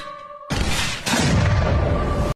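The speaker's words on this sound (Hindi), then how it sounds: "कैटास्ट्रोफिक इम्प्लोजन विस्फोट के विपरीत होता है, जिसमें कोई भी वस्तु अपने आप में समाकर छोटे छोटे टुकड़ों में बट जाती है, कुछ इस तरह।" A dramatised sound effect of the catastrophic implosion of the Titan submersible in the deep sea: a sudden loud, deep boom erupts after a quiet tonal hum, followed by a second crushing burst and a sustained rumbling roar.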